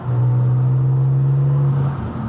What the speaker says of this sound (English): If I downshift a few gears, you can hear the whine of the supercharger.